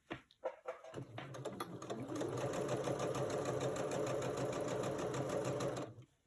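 Sewing machine stitching quilt pieces, starting with a few short bursts and then running in a steady, fast, even whir with a mechanical hum for several seconds before stopping, close up and with no voice.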